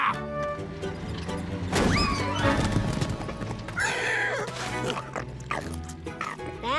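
A horse whinnies loudly amid clip-clopping hooves, with a busy mix of other sounds and a brief crash layered over the scene, in a cartoon.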